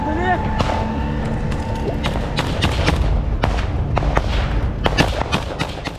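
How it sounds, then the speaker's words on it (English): Close-range gunfire in a trench firefight between soldiers at Russian positions, a dense run of sharp cracks and thuds in irregular bursts over a low rumbling background, loud and near throughout. "A fierce firefight broke out at close range."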